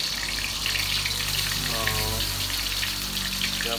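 Mushrooms frying in a pan with grease spattering, a dense steady sizzle and crackle held throughout, close and loud, with a brief voice in the middle.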